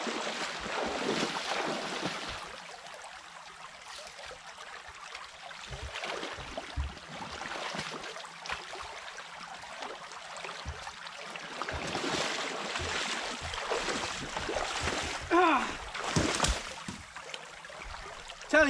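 Water from a breached beaver dam rushing and gurgling steadily, with wind buffeting the microphone and occasional louder surges, and no talk.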